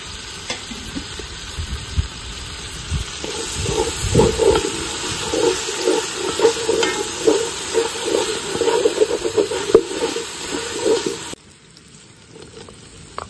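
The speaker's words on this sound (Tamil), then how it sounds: "இப்போதான் நான் பட்டை கிராம்பு ஏலக்காய் பிரியாணி எல்லாம் போடுறேன்." Cinnamon, cloves and cardamom fry in oil for biryani, giving a loud, continuous sizzle with stirring scrapes that runs steadily before cutting off abruptly near the end, leaving a quieter background hiss.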